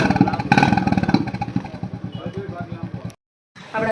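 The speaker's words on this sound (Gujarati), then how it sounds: "અવાજ સાંભળી લ્યો તમે અસલ ઇન્દોરી સાયલેશનનો" A Royal Enfield Bullet motorcycle with a modified Indori silencer thumps out a loud, close, rhythmic exhaust beat, steady pulses at a low idle, then cuts to a brief silence before resuming.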